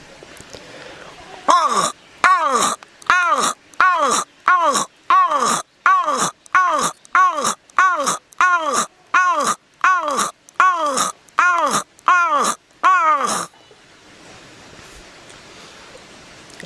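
A voice mimics a raven's call, a run of about sixteen loud, harsh, croaking caws repeated at a steady pace close to the listener, followed by low background noise.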